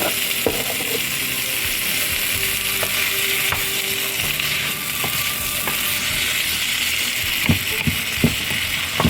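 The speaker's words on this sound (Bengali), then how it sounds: "এটা একদম ভাজা ভাজা হওয়া পর্যন্ত আমি নাড়তে থাকবো।" Chopped onions with a pinch of salt frying in a pan, a steady loud sizzle with scattered scraping clicks of a spatula stirring throughout, no voices.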